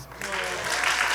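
A crowd at a Creole stage comedy show applauding, dense steady clapping filling the room for the whole stretch.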